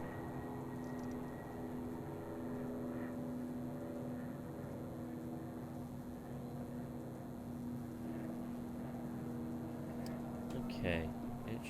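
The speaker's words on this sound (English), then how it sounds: "I believe there's a helicopter overhead." A helicopter hovers overhead in the video game Batman Arkham City, giving a constant droning rotor hum with steady tonal whine under the game's ambience, with a brief louder swell near the end.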